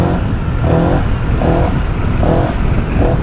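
Honda PCX scooter with no air filter and a washer fitted in the exhaust, revving loudly and close in repeated surging pulses, the engine rising and falling about every second.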